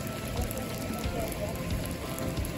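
Steady rain patters on a surface as a constant dense hiss, moderately loud and close.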